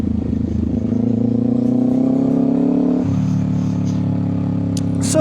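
A 2025 Kawasaki Ninja 500 motorcycle engine revs steadily while riding, its pitch climbing over a few seconds before dropping as the gear changes, then holding a lower drone, loud and close.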